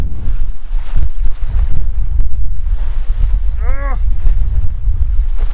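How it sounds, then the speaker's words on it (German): Strong wind buffets a microphone outdoors at the water during a fishing competition, producing a loud, continuous low rumble with a brief whistling tone partway through. "Es ist so windig."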